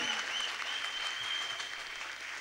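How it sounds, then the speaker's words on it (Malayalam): An audience at a college event in Ramapuram claps steadily for a couple of seconds. The applause is dense and fairly close. "നല്ലൊരു കൈയടി നമുക്ക് സാറിന് കൊടുക്കാം."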